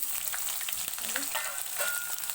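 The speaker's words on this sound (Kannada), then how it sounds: "ಇವಾಗ ಚೆನ್ನಾಗಿ ಫ್ರೈ ಮಾಡ್ಕೋಬೇಕು ಈರುಳ್ಳಿ ಎಲ್ಲ ಒಗ್ಗರಣೆಯಲ್ಲೇ" Onions sizzling and crackling in hot oil, a dense steady frying hiss with small pops, close up and without talk.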